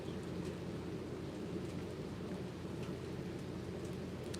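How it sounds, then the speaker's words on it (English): Rain begins falling outside a house as a storm moves in, a steady, even hiss of drops that stays constant and moderately distant throughout. "Starting to rain now,"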